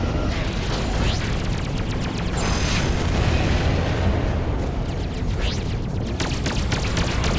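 Space combat in the video game Freelancer, with dense continuous weapon fire and rumbling explosions, loud and close, a few sharper bursts standing out in a constant roar.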